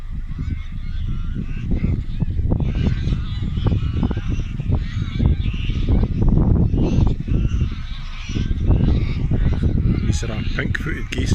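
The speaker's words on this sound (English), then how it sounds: "These are pink-footed geese doing a side bog heat." Pink-footed geese honk loudly and continuously at close range, a dense flock calling over one another.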